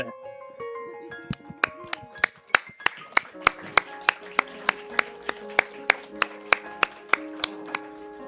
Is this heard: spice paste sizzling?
no